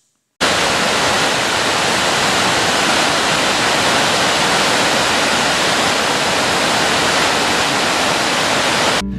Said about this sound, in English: Just 6 miles from the house, you'll find Cummins Falls.